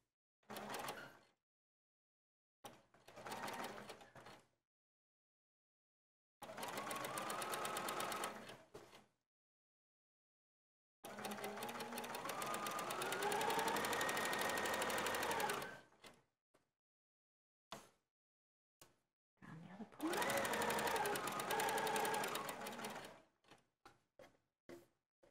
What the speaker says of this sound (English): stitching carefully around the second point, pivoting while the needle is down in the fabric